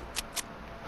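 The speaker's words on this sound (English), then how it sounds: "Let's reload this gun." Gun reloading in the Fortnite video game: two short, crisp mechanical clicks a fraction of a second apart over a steady game background hum.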